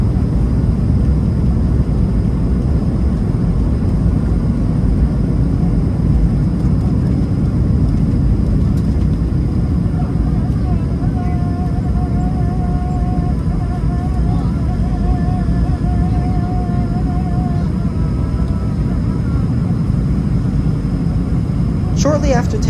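Air Canada A220 airliner on its takeoff run, heard from inside the cabin as a steady, loud engine roar and rushing noise holding throughout, with a faint tone rising partway through.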